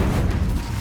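A fiery Incendio spell bursts in Hogwarts Legacy, a loud, deep, rumbling whoosh of flame that fills the brief moment with heavy low-end roar.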